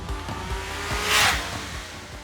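A Triumph Speed Triple 1200 RS three-cylinder motorcycle accelerates hard, its engine note climbing through the revs in a rapid throbbing pulse, fairly faint with a brief rushing swell midway.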